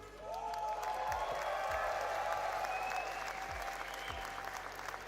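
Crowd at a Rocket League esports watch party applauding and cheering loudly and steadily throughout, with scattered whoops.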